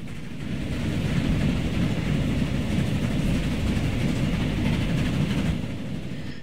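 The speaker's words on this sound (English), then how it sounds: "I want the passenger train." A passenger train runs in a rail simulation game, giving a steady low rumble with faint rhythmic clatter that rises gently, holds, then eases off near the end.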